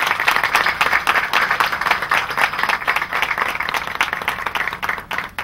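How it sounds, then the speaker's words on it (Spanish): Crowd clapping at an outdoor street naming ceremony, a lively patter of many hands with some individually distinct claps, continuing through the whole stretch and tapering slightly at the end. "recibir con un fuerte aplauso"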